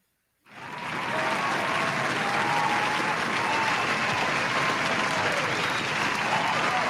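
A studio audience breaks into sustained, loud applause for a newly crowned wrestling heavyweight champion, with a sharp start and steady clapping that fills the room with no speech over it.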